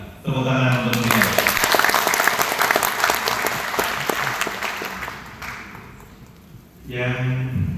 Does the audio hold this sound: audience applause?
yes